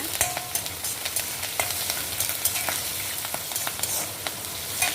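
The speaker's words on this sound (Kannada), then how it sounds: "ಒಗ್ಗರಣೆ ರೆಡಿ ಆಯಿತು" Green chilies and mustard seeds sizzle in hot tempering oil, a dense continuous hiss punctuated by frequent small crackles and spits, close and without any talking.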